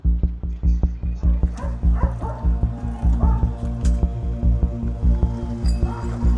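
Police dogs barking and yipping repeatedly during a lockdown protest in the Netherlands, a fast rhythmic run of barks with some whimpering, loud and close, with voices mixed in.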